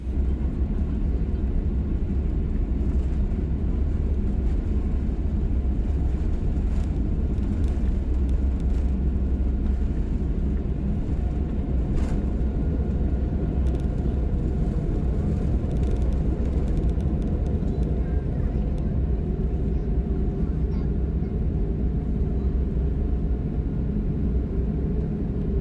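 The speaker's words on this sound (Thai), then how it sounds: "จริงๆอยากจะถ่ายวิดีโอช่วงที่เครื่องบินขึ้นครับ" Korean Air airliner taking off from a runway in the rain, heard from inside the cabin as a steady, loud low engine roar and rumble that persists throughout.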